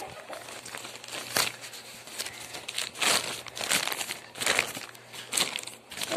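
A silage bag being opened on a farm while its rubber cover is rolled up, crinkly plastic rustling and crumpling in uneven bursts, close and fairly loud, no voices.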